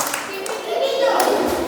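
Applause from children and an audience at a school event honouring parents, lighter and more scattered clapping mixed with children's voices and chatter.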